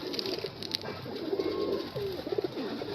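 A Kagoji pigeon with a cream beak and blue bars coos close by. Low, throaty, repeated coos roll over a faint steady background hiss.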